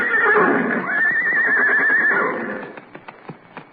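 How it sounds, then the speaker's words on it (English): A radio comedy sound effect of horses: a loud close whinny with a rising and falling pitch, then a few quick hoof clip-clops as it fades out. "Here he comes with the horses."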